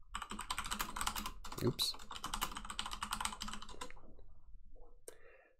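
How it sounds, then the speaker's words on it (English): Keywords typed on a computer keyboard: a fast, steady stream of close, light key clicks that slows and stops near the end, with one brief spoken word partway through. "Essentially you just type in your keywords here"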